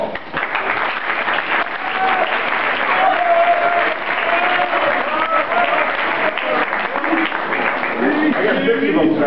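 A cross country team banquet audience gives sustained applause, a loud dense roll of many hands clapping that stays even for several seconds, with a few voices calling out beneath it.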